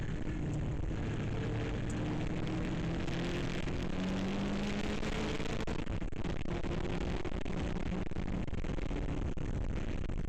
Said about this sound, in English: the track is alive with the roar of engines